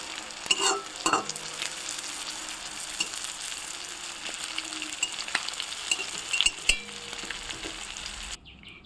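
Onion, tomato and green chilli frying in hot oil in a wok for fish curry, a close, busy sizzle with sharp spatula scrapes and clatters, then an abrupt cut at the end.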